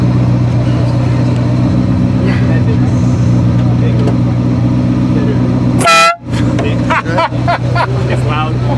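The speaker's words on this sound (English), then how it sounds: "Well, it's the old school Ferrari horn, you know, not like a new one" A single loud, brassy blast of a Ferrari F40's old-style air horn cuts through a running engine and nearby chatter.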